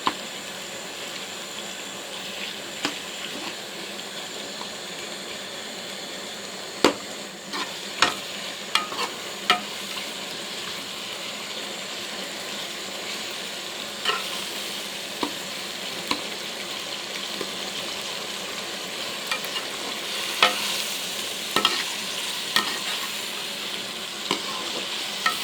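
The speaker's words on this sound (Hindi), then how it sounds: "अब इसमें कीमा डालूँगी। कीमा डाल के इसे थोड़ा सा पका लूँगी।" Minced meat keema fries in a pan for a long stretch, a constant close sizzle punctuated by scattered clicks and scrapes of stirring.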